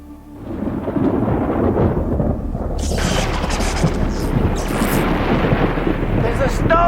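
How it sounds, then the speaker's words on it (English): Thunder of an approaching storm in rural Nebraska: a deep rolling rumble swells in and keeps growling beneath a broad wash of rain-like hiss, loud and continuous. "There's a storm coming."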